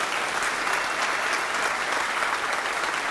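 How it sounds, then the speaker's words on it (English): Conference audience applauding for the organizers, a dense, sustained clapping from a large crowd in a hall, steady and even throughout without speech. "I want to give a huge round of applause to the hardest working conference organizers I know."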